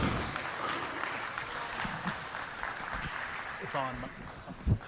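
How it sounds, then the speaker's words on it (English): An audience at a junior beef cattle show applauds the Herdsman Award winners, a moderate steady clapping with a voice briefly cutting through near the end. "Let's give them a big round of applause."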